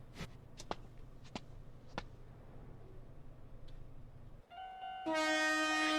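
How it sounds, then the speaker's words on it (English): In a video game, a train reaches a level crossing: a few sharp clicks over a low hum, then a loud, steady, tonal horn-like blare swells in near the end. No one speaks. "And here's the train."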